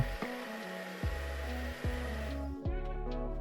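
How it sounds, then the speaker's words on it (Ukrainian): A hair dryer blows steadily, heating a Nintendo New 3DS XL screen during repair, a close continuous whine and hum with a few short shifts in pitch as it is moved or switched. "Але спочатку беру фен та прогріваю."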